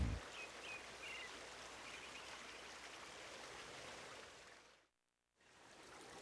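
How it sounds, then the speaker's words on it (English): A babbling brook in the video game Eternal Sonata, a steady soft wash of trickling water with faint bird chirps, quiet and continuous before a brief silent gap near the end. "Accompanied by the gentle rhythm of a babbling brook, the birds begin to sing."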